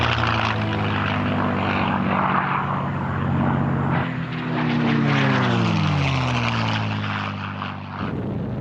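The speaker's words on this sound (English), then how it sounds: "The US engine had been replaced by a British-made Rolls-Royce Merlin." P-51 Mustang fighter powered by a Rolls-Royce Merlin engine: a loud, continuous propeller drone with a throbbing low engine tone that dips and rises in pitch midway, like a pass overhead.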